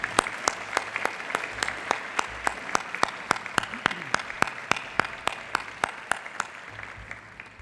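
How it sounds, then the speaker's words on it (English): Sparse audience applause at a college state-of-the-college address, a few hands clapping in a distinct, evenly spaced rhythm that sounds fairly distant and thin, lasting several seconds. "Please give all these people a round of applause."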